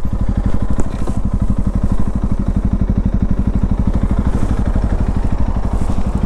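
A Honda CRF300L single-cylinder motorcycle runs close by, its engine thumping in a steady, rapid pulse at a constant idle-like speed, loud and with no talking over it.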